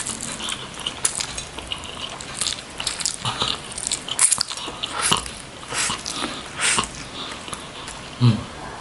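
Close, crisp biting and wet chewing of Indomie jumbo instant noodles and sausage in a spicy mukbang, with repeated crunchy bites and mouth sounds throughout, a sharper bite near the end.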